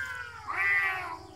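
A cartoon cat gives a single drawn-out meow that swells in the middle and fades, clear and close, with no speech over it.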